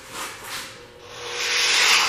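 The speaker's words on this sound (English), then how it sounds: "going to grind it" Grinder working on an old brake line on a 1993 Lincoln Mark VIII in a garage, a harsh rasping hiss that swells and fades then grows louder and steadier toward the end.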